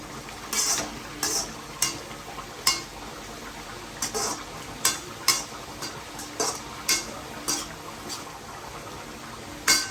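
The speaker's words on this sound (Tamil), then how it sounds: "இந்த குழம்பு நல்லா கொதிக்குது" A thick cauliflower curry bubbles in a pot on the stove, with irregular soft pops and plops every second or so, quiet and close.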